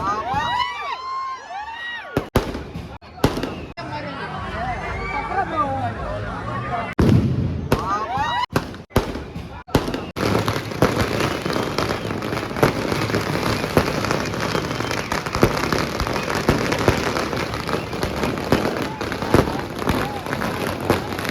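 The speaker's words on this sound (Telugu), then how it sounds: "వీళ్ళు చూడండి క్రాకర్స్ ని అంటించేసి చేత్తో పట్టుకొని తిప్పుతున్నారు జనాలలో" Fireworks and firecrackers bang and crackle loudly at a night fan celebration for a film release in Kadapa, with sharp bursts early on giving way to a dense, continuous roar of explosions amid a noisy crowd.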